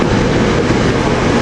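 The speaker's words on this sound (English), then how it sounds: "Here we got the Tall 10 Paoli train 1529 taking off with Railcars 302" A SEPTA Silverliner Paoli train with several railcars pulls away, a loud, dense rumble of wheels and motors held steady through the short stretch, with no voices.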